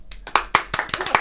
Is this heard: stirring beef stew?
no